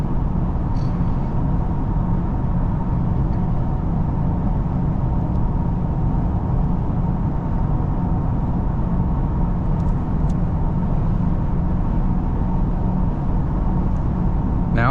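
Car cruising on an interstate highway around 69 mph, a constant loud road and engine rumble with no breaks, heard from inside the cabin.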